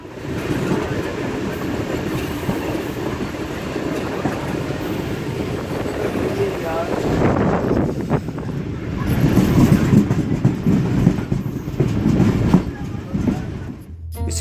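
Sir Syed Express passenger train in Pakistan, hauled by locomotive AGE 36009 on the Lodhran to Khanewal chord line, rumbling steadily along the tracks with continuous rolling noise and wind buffeting, swelling louder midway.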